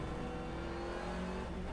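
Damaged race car engine at the Spa 24 Hour circuit, running rough and uneven like a tractor, a steady low droning growl that holds close and loud for the whole stretch with no other sounds.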